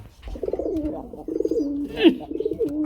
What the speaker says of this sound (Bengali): এই হচ্ছে জাতের কবুতর